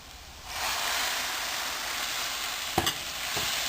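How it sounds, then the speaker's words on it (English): Chicken keema masala fries in a pan, a loud, dense sizzle rising in after a quiet start, with a couple of sharp scrapes from stirring near the end. "Now at first mixing, and I will fry it for about 1 to 2 minutes."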